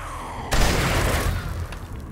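Gunfire in a zombie survival video game, a sudden loud blast that cuts in and rolls into a sustained, dense roar of shots and rumble lasting about two seconds.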